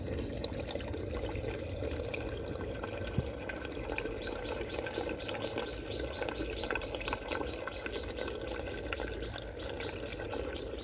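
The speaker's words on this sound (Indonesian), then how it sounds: "Makin dekat semakin terdengar jelas gemericik sumber air di balik bebatuan" Steady trickling spring water runs continuously behind rocks on a mountainside, with soft splashes and drips, fairly close, with no voices.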